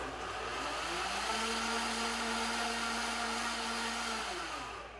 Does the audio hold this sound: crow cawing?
no